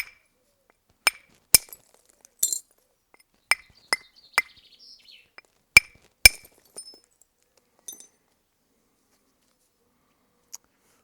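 A heavy soft hammer strikes flint during knapping, sharp clicking impacts arriving one at a time at irregular intervals, about a dozen close, crisp knocks with faint flake chinks and quiet gaps between.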